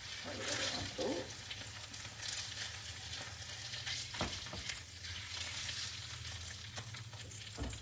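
Sesame-crusted tuna steak sizzling and frying in a pan at close range, a steady hiss with occasional crackles and stirring clatter throughout.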